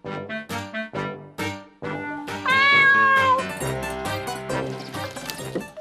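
A rescued house cat meows while watching a bird it cannot reach, giving a drawn-out, wavering meow in the middle, set against light background music with short plucked notes.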